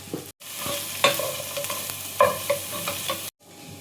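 Onion and carrot stirred and frying in a pan while making ghee rice, a steady close sizzle with scraping stir strokes and brief pauses, no talk.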